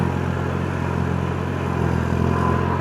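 A tractor engine runs steadily while ploughing a field to prepare soil for corn sowing, a loud, close, constant diesel rumble with a low rhythmic throb and faint clatter, no voices.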